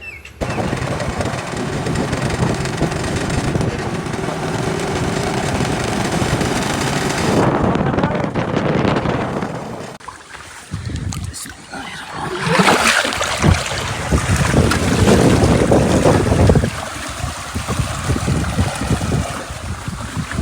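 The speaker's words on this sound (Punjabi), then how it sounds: "ਹਵਾ ਚੱਲਦੀ ਖੜੀ ਚੰਗੀ ਤੇਜ਼" Strong wind roars across open farmland during a storm, loud and buffeting the microphone in long gusts with a brief lull midway before it surges again.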